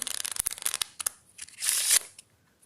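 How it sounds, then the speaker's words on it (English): Deck of playing cards shuffled by hand during a card trick, a quick run of crisp riffling snaps followed by a denser burst of flicking cards, close and clear with no talk. "I can even give it a shuffle"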